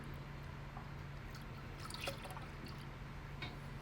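Liquid poured into a brandy milk punch mix, with soft dribbling and trickling over a steady background hum, faint and close, with a couple of brief splashy drips.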